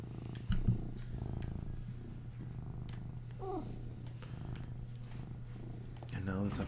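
A pet cat purring with a low, steady rumble that holds throughout, close by and under lively talk from several people, with a few brief chirps and squeaks mixed in.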